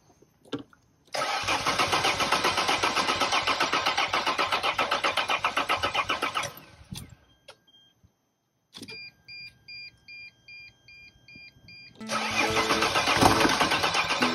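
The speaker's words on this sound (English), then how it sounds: "Now I wonder if the engine will start now that it can get a little fuel." A T1N Sprinter van's engine cranks in long rhythmic bursts after a fuel pump test, pauses amid chiming warning tones and clicks, then cranks again close and loud with no voices.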